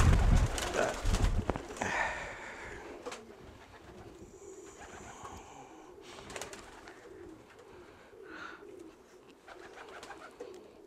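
A racing pigeon in a loft coos softly and repeatedly after a loud, rustling burst of handling at the start, the low calls sounding close and steady.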